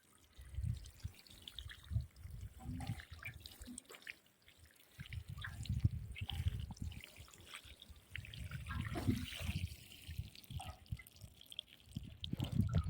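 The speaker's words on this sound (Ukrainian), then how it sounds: "поливаю повністю всю грядочку" Steady trickling and splashing of water and treatment solution poured onto a strawberry bed's soil, continuous and close, with faint rustling and no speech.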